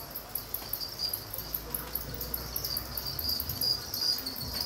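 Farmed crickets in a rearing box in Kenya chirp steadily in a dense, shrill, continuous chorus with no voices.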